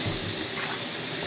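Water runs steadily from a tap whose fitting leaks despite being tightened and wrapped in PTFE tape, giving a continuous broadband hiss and splash at moderate level, close by, with no voices.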